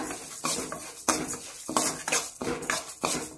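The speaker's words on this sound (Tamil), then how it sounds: "உளுந்தம்பருப்பை ஆட் பண்ணிக்கோங்க. ஆட் பண்ணிவிட்டு நல்லா வதக்கி விடுங்க" Urad dal roasting in a pan while being stirred, with repeated scraping and clinking strokes of a spoon against the metal, arriving in rhythmic bursts about every half second, close and fairly loud.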